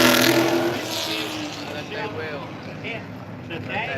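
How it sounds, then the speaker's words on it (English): A late model race truck, number 37 and weighted to meet the rules, roars loudly on a dirt track and fades toward the distance, while an announcer talks over the engine noise. "Yes, ladies and gentlemen, that is a truck."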